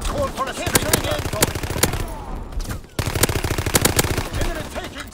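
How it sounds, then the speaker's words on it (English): Strafing-run machine gun fire in Call of Duty: WWII, rapid sharp bursts of automatic shots in quick rhythmic volleys with a short pause midway, loud and close amid game sounds. "Fighter pilot in your area. Call for a strafing run."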